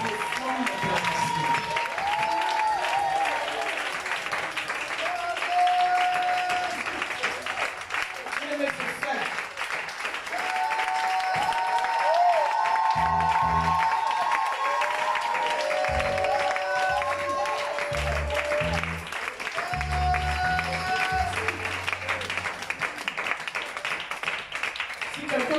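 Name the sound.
church congregation applauding and acclaiming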